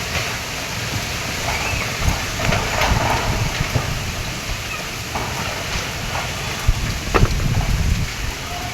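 Strong storm wind in Mumbai whips dust around, a steady broadband roar with gusty swells and a few sharp bumps near the end, close and continuous with no talk.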